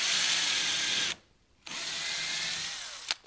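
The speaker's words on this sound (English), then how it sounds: "I'm going to take this drill" A power drill whines loudly up close as it reams out a split wood piece during cabinet work for a dishwasher install, running for about a second, stopping briefly, then running again with a short knock at the end.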